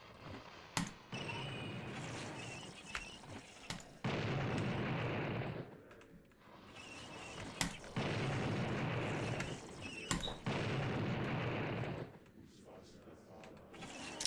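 Manually detonated dynamite going off in the game Blood, a string of loud, broad booms with sharp cracks near 1, 4, 7.5 and 10 seconds and long rumbling tails, separated by brief quieter gaps.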